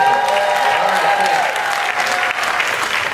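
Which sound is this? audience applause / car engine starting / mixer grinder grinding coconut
audience applause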